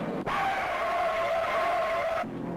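A 1968 stock car spins out on a one-mile high-banked superspeedway, its tires giving a loud, sustained skidding squeal of about two seconds that ends abruptly. No one speaks over it.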